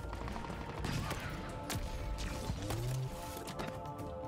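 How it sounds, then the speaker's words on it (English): Enemy gunfire in the video game Halo Infinite, a chaotic barrage of rapid shots, impacts and energy-weapon zaps mixed with game effects, loud and continuous with no talking. "what the fuck is shooting at me?"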